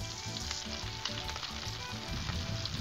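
Shrimp sizzling on a Blackstone flat-top griddle, a loud steady crackling fry that holds evenly throughout with no voices, close up.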